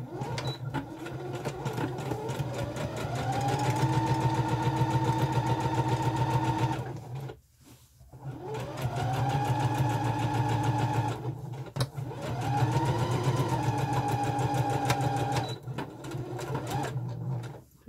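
A sewing machine stitches 8 mm channels in a corset, close and steady, in three long runs whose motor whine rises as it speeds up, separated by short pauses.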